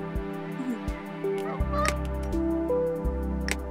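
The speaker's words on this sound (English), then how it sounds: "Who wanted this goose?" A goose in the Let's Build a Zoo video game honks several times in short, nasal calls over a layered game soundtrack, without speech.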